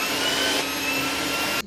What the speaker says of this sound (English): my favorite feature, which has to be the charging station / auto empty dock